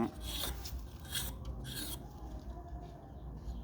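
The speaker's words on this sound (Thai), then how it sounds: "ได้เหลานะครับ ได้เหลาก้านลานนะครับ" Palm leaf stalks are shaved by hand into thin strips, giving three close rasping scrapes in quick succession, then quieter, fainter scraping that trails off.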